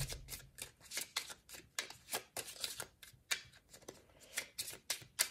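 Cartomancy cards being shuffled in a deck for a nine-card reading, a run of quick riffling and sliding bursts in a steady rhythm, close and fairly quiet, with no talking.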